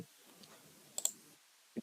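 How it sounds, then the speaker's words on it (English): Computer keyboard keys clicking on a desk, a quick pair of sharp clicks followed by a single louder press like hitting enter, close and fairly quiet with no talking. "Now type here CMD and hit enter."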